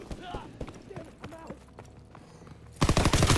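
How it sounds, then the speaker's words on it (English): Machine gun fire in a first-person shooter video game, with scattered sharp shots and clatter early on, a quieter gap, then a loud sustained burst of rapid automatic fire at the end. "Did pretty good with this machine gun"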